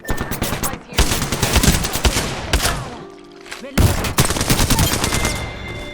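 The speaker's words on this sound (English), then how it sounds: "Listen up, I'm getting shot at." Gunfire in the Apex Legends video game: rapid automatic bursts crack close and loud, broken by a short pause before a fresh volley resumes.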